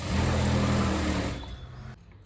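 A sewing machine runs steadily while stitching a 5-inch salwar belt, a close whirring hum that winds down and stops after a second and a half, with no one talking.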